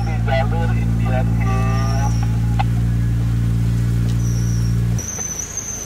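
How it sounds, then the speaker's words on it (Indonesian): A Suzuki Jimny with a wet fan belt idles with a steady, close engine drone, while short high squeaks chirp repeatedly over the first few seconds before the engine note drops. "Ini fan belt-nya basah. Iya, bunyi cicit-cicit gitu"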